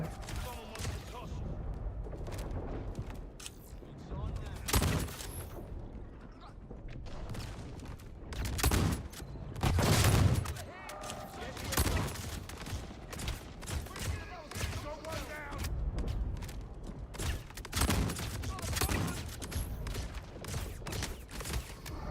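Shotguns fired rapidly by computer-controlled characters in a video game, a dense run of loud, overlapping blasts and thuds over about twenty seconds, with speech mixed in.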